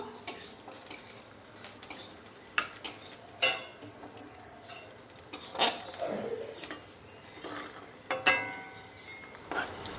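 Fried nuts and raisins lifted out of a kadai with a metal spoon, giving scattered clinks and scrapes against the pan, soft and close, with quiet gaps between.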